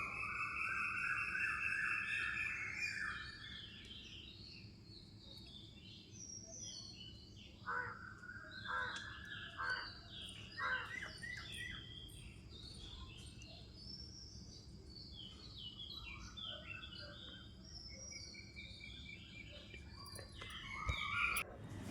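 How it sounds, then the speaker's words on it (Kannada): A busy dawn chorus of birds singing and calling, overlapping chirps and whistles from several directions, moderately distant over a faint steady background. "ಎಷ್ಟೆಲ್ಲ ಪ್ರಾಣಿ ಪಕ್ಷಿಗಳು ಸೌಂಡ್ ಮಾಡ್ತಾ ಇದೆ ನೋಡಿ, ಕೂಗಾಡ್ತಾ ಇದೆ."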